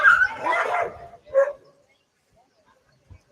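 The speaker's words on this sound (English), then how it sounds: "The dogs get excited about this dive as well." Excited dogs bark and yip at a freediving event, with a burst of overlapping barks, a short whine-like yelp, then near silence and one faint thump, heard up close.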